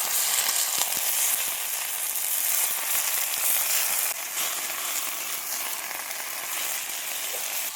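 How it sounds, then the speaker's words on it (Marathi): Punarnava greens fry in hot oil with a steady, dense sizzle and crackle that holds close and loud throughout, with no voices over it. "आता ही पण आपल्याला भिजून घ्यायची भाजीसाठी तेल चांगलं गरम झालंय मस्त परतून घेऊ"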